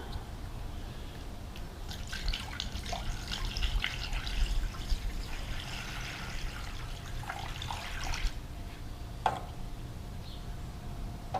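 Antifreeze is poured through a funnel into the radiator of a Ford 2810 tractor, a soft, continuous trickle and gurgle of liquid that swells in the middle, with a faint tick near the end.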